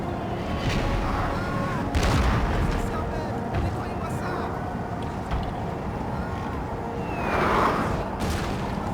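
An artillery barrage fires during a battle in the Napoleon: Total War strategy game. Booming volleys rumble over dense battlefield noise, with a louder swell near the end and a voice talking over it.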